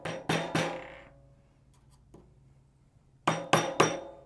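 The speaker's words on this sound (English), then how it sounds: "I use this flathead to hammer this down" Sharp metallic taps of a flathead screwdriver hammering a part down while assembling a Juki industrial sewing machine: three close strikes, a pause with faint clinks, then three more in quick succession, fairly near and loud.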